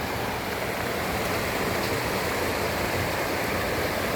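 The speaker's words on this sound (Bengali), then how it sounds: "পানির স্রোতের আওয়াজ শুনতেছেন আপনারা" Rainwater rushes through a flooded wadi in Al Buraimi, Oman, a loud, continuous broadband roar of churning current heard up close, unbroken and with no voices.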